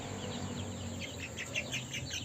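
Small chicks and a young turkey peep faintly in quick, high repeated chirps while being transferred to a bigger coop, heard at a distance over a low background hum.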